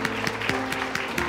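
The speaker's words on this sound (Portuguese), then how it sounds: "Um forte aplauso ao Senhor" A church congregation gives a loud round of applause during a worship service, steady dense clapping mixed with sustained musical tones from instruments, continuing throughout the brief moment.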